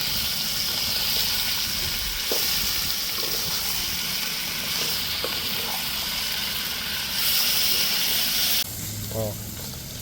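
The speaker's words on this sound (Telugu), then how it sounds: "ఇప్పుడు ముక్కలు కూడా వేసేసుకుందాం. ఇప్పుడు ఈ ముక్కలు మంచిగా కలిపేసుకుందాం." Chicken pieces are tossed and mixed in a hot pan for chicken fry biryani, making a steady sizzling hiss with occasional soft clinks. A voice talks over it, and the sizzle drops near the end.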